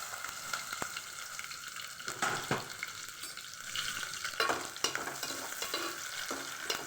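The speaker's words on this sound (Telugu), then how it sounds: "మనం కట్ చేసుకున్న ఉల్లిపాయ పచ్చిమిరపకాయని ఆయిల్లో వేసుకోవాలి" Chopped onion and green chillies sizzle in hot oil for wheat rava upma, a steady frying hiss broken by several sharp scrapes and stirs of a spoon against the pan.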